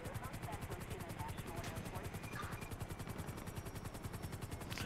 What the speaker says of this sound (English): Wow, they're still shooting me.